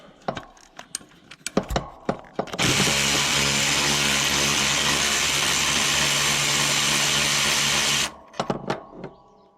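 A power impact tool whirs steadily for about five seconds while backing bolts out of the seat mount on a Ford 3000 tractor, bracketed by sharp metallic clanks and handling knocks.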